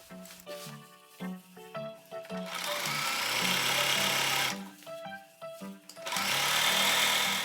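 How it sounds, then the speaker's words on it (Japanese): A sewing machine stitches the hem of a handmade skirt in two long, steady runs, with short, quieter bursts of stitching before them and no talking. "裾を縫って完成だ。"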